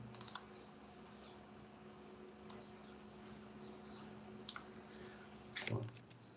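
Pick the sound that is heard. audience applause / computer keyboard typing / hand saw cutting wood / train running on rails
computer keyboard typing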